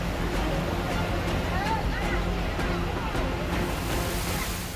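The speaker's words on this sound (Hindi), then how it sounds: "प्रसिद्ध रजप्पा सिद्धिपीठ के पास भैरवी नदी प्रचंड वेव के साथ बह रही है" Bhairavi river near the Rajrappa Siddhpeeth temple rushing in monsoon flood with strong waves, a constant roaring water wash with wind buffeting the microphone and faint babble of people in the background.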